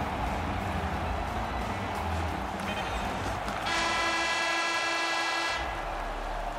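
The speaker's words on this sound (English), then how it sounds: "the sound of the horn will wrap things up for period number two" An arena horn sounds the end of the second period at an NHL Stanley Cup conference semifinal playoff hockey game, a loud sustained blast of a few seconds rising over steady crowd noise.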